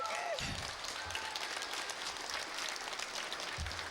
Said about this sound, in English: let's give Ms. Jordan and the accompanist a round of applause.